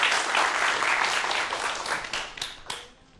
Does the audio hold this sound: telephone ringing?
no